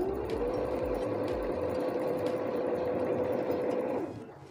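A Jaguar KC.210 sewing machine runs at normal speed while stitching, giving a steady, fast mechanical whir with rapid needle clatter that holds evenly, then winds down at the end, close and loud.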